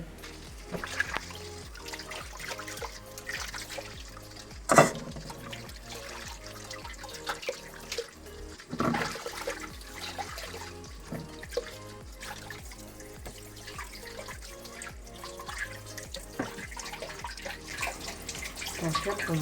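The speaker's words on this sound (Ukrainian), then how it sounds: "Зараз я промию, промию під проточною водою." Steady running tap water splashing and trickling continuously, with occasional louder splashes as herring is rinsed under the stream.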